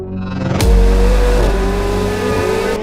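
A McLaren 750S supercar engine revs up sharply and then holds a loud, steady, deep drone close by, with a faint whine rising over it and no voices.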